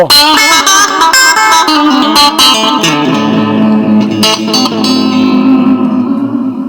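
Electric guitar played through a digital delay pedal set for echo and reverb: loud strummed chords and single notes ring out with repeating echoes and a long washy tail that slowly decays.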